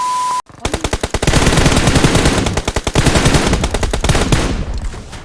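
Rapid automatic gunfire in the PUBG Mobile shooter game, loud and close, bursts of evenly spaced shots running almost continuously after a brief tone and a moment of silence.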